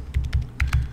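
Keystrokes on a computer keyboard, four quick bursts of clicky taps close by, with no voices.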